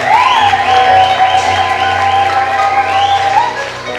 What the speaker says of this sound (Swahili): Mpe Yesu makofi na vigelegele